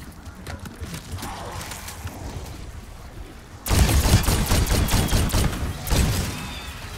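Bursts of gunfire in Call of Duty: Black Ops 6 zombie mode, a rapid volley of shots erupting suddenly after quieter game ambience and continuing loudly with repeated cracks.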